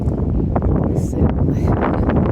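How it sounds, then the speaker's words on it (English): Strong wind gusts roar steadily through a very small, isolated mountain village, a loud continuous rushing that buffets the microphone throughout with no break. "Very windy."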